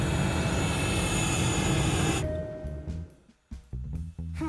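A cartoon-style airplane landing effect: a loud, steady engine roar fills the first two seconds, then cuts away to quieter, broken bursts and thumps as the sound winds down.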